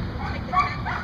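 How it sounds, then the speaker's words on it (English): Short yips from a dog close by, mixed with a person talking over the top. "Oh, these noisy dogs"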